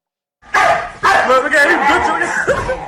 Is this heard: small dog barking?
yes